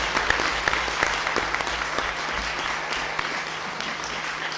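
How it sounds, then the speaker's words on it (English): Banquet audience at a yeshiva award event applauding, a steady dense clapping from a crowded hall with a few sharper individual claps standing out. "Yes, you could applaud."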